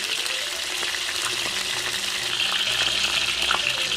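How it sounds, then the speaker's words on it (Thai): Cabbage fries in hot oil, making a steady, close, dense sizzle with faint bubbling and occasional pops throughout, and no talking. "ทอดตะกัวเสร็จแล้วเดี๋ยวเรามา ทอดกระหล่ำกันค่ะ"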